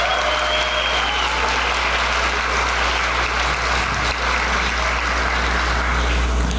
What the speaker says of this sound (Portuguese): Uma salva de palmas novamente para o Paulinho Queiroga na bateria.